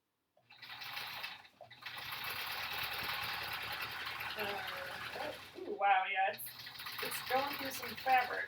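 A sewing machine stitches the edge of quilt-as-you-go sampler blocks in a steady mechanical whir with a brief pause near the start. Near the end, quieter talk and a few short voice sounds come in over the machine.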